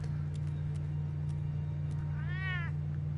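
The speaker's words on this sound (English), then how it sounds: "Freaking cat." A single clear cat meow rises out of a steady low engine-like hum in Telltale's Batman video game, preceded by a few faint clicks.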